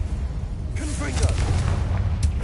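A Confringo blasting spell explodes in the Hogwarts Legacy video game, a dense rumbling boom that swells and rolls on through the clip under a speaking voice.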